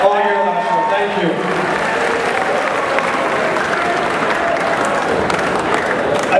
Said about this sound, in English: So a big round of applause for you guys